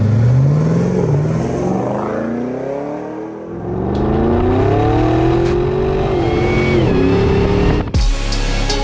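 A 650-horsepower LT4 V8 with an 8-speed automatic in a restored 1984 Land Rover Defender 110 revs and climbs through gears, loud and close, the pitch rising in long sweeps before cutting off abruptly.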